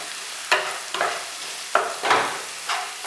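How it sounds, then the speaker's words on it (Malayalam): Vegetables stirred in a frying pan for vegetable cutlets, a steady sizzle with repeated rhythmic scraping strokes of the spoon about every half second to a second, close and with no voices. "അപ്പോൾ നമുക്ക് എല്ലായിടത്തും നല്ലവണ്ണം ഇളക്കണം."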